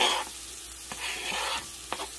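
Chopped mushroom stems hiss and sizzle in melted butter in a pan, a soft, close frying sound broken by a few faint taps and scrapes of stirring.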